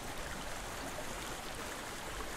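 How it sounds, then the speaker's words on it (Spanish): Water flows steadily in the video game Hellblade, an even broadband rush that fills the whole moment with no talk over it. "qué chingón se escucha el agua"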